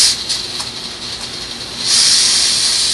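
Steady gas hissing from a small MSR PocketRocket camping stove, close by, swelling noticeably louder and fuller partway through.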